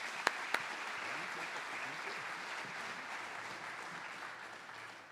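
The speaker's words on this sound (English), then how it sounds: "Give them a round of applause." Faint, steady applause from a crowd at a primary candidate forum, greeting the moderators, with a couple of sharp knocks near the start and a low hum underneath.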